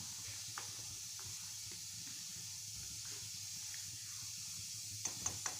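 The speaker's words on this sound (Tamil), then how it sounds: "வெல்லம் ஒரு பக்கம் கொதிச்சிட்ருக்கு" Jaggery boiling and dissolving in a pan of water for a mango dish, a soft continuous hiss and simmer close by, with a few faint bubbling pops and sharp clicks near the end.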